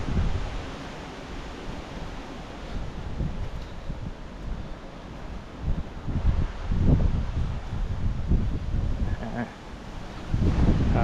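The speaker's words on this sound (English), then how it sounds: "It's pretty windy" Gusty wind buffets the microphone with low rumbling bursts that rise and fall, over a constant outdoor rush; no one speaks.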